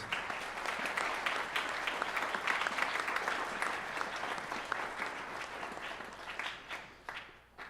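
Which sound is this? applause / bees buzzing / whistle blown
applause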